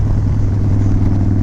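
Harley-Davidson Dyna Wide Glide motorcycle with extensive engine work, running steadily with a deep, loud, close rumble and no talk.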